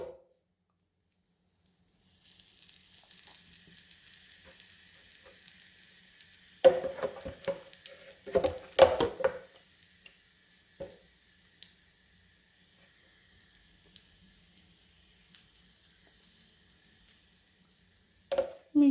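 Rava-coated Indian mackerel fries in oil on a tava: a faint, low sizzle runs under several sharp bursts of scraping and clinking from handling the fish, then settles back to a quiet hiss.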